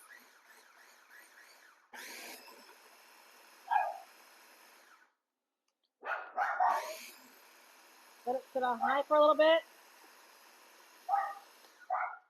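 A small dog barks indoors in a kitchen, several sharp yaps in a quick cluster, with a blender whirring at high speed and a person talking.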